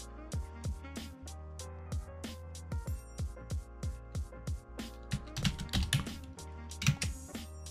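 Keys clatter steadily on a computer keyboard while a password is entered, with quick close taps in uneven bursts that thicken into faster typing near the end.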